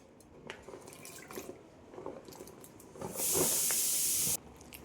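Cut bottle gourd pieces plop and splash into a basin of water, with scattered light drips. Then a loud, steady hiss of running water lasts about a second before stopping, all close with no talk.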